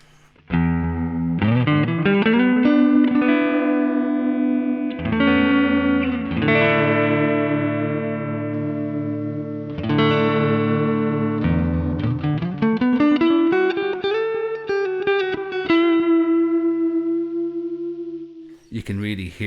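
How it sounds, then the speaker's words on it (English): A guitar played through a modulated delay pedal with the modulation turned up, chords and notes swooping in pitch with a wobbling vibrato and trailing repeats, played close and fairly loud with no talk. "You can really hear the pitch vibrato that's happening there in that modulated delay."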